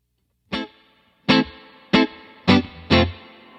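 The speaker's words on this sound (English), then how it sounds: "Plenty of luscious reverb on tap" A Fender Hot Rod Deville ML Michael Landau tube amp rings out five separate guitar hits, each sharp attack trailing into a lush reverb tail, distinct and close.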